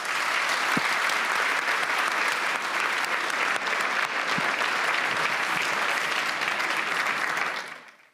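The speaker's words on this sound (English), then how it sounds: "Let's give a huge round of applause to our panel." Audience at the Munich Security Conference breaks into sustained, dense applause for a panel, steady and loud before fading out at the end.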